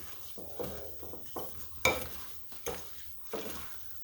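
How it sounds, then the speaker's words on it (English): Batter being whisked with a Danish dough whisk for cranberry nut bread, a series of soft scraping, stirring strokes against a bowl with a few sharper clinks, close and fairly quiet. "this whisk thing that I'm using is called a Dutch or Danish whisk, and it brings stuff together like this really well and super quick"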